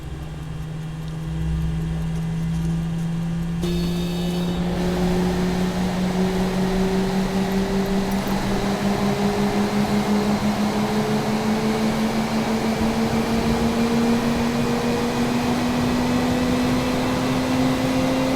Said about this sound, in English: Hydraulic pressure and engine starting up.